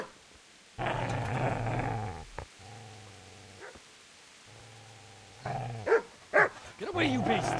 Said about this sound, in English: Follow dog barking.